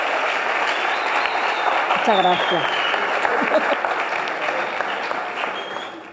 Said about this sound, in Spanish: voy a pedir, por favor, un aplauso muy grande para la mesa